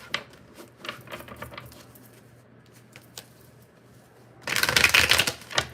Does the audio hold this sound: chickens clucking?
no